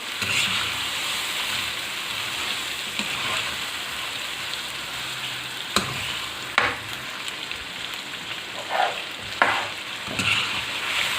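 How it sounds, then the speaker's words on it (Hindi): Ginger garlic paste frying in a pan for a restaurant-style chicken Shinwari karahi, a steady broadband sizzle with a few sharp stirring clinks and scrapes, close and moderately loud, no talking. "एक आध मिनट हम अदरक लहसुन के पेस्ट को पकाएंगे।"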